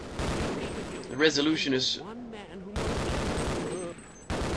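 Gunfire in the video game Half-Life, with rapid crackling shots running under a brief spoken line and in-game noise, the bursts broken by short pauses.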